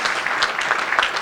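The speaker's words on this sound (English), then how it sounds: "we can give a round of applause for that" Guests at Ryan and Stephanie's 2016 wedding reception break into a short, loud burst of steady, dense applause that fills the room with no speech over it.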